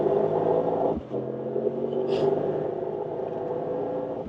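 Mercedes-AMG GT 63 Pro accelerating hard, a deep steady engine roar heard from inside the cabin, with a brief dip like a gear change early on before the drone resumes.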